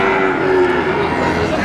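A loud, sustained low moo from cattle at a crowded cattle market in Wirosari, droning steadily over a noisy background of the market crowd.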